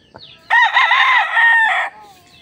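A White Kelso gamecock at a cockfighting derby gives one loud, close crow lasting a little over a second, clear and alone against faint background noise.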